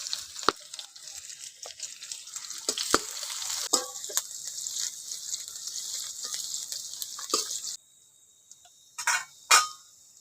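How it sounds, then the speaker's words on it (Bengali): Chopped onions hit hot oil with whole cumin seeds while cooking a lentil kofta curry, giving a steady close sizzle with stirring scrapes and light clicks; the frying noise drops off sharply near the end, leaving a few brief clatters. "পেঁয়াজ কুচি দিয়ে দিচ্ছি"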